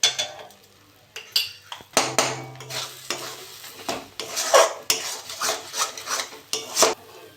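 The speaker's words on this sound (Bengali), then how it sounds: "লঙ্কা আর চিংড়ি মাছগুলো মেখে নেব" Chillies and shrimp mashed and mixed by hand for a potol bhorta, giving close, irregular squelching and scraping against a bowl, with occasional clinks of utensils in short uneven bursts.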